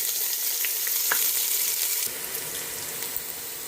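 Chopped onions hit hot oil in a frying pan, giving a steady, loud, close sizzle with a sharper burst of crackle partway through as more onion goes in, while fish frying continues nearby.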